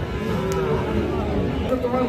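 A Sahiwal bull calf moos at a cattle market in Dinajpur, a drawn-out low call carrying over steady crowd noise and distant chatter from the surrounding livestock trade.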